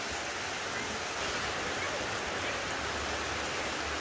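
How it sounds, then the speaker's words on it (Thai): Steady rain falls, a dense, even hiss that continues unbroken at moderate loudness with a faint low rumble beneath it. "ฝนตกรินเจ้าค่ะ"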